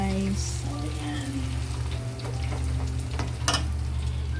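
Chili being stirred into peanuts frying in a pan makes a steady crackling sizzle with scraping stir strokes and a brief louder burst near the end, close and continuous, over a low background hum.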